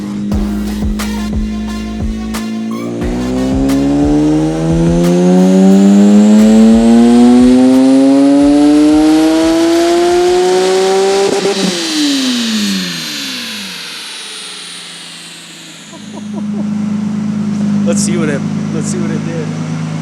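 A race car engine on a dyno, idling and then revving hard in one long rising pull that peaks sharply, drops back, and settles to a rough idle, loud and close.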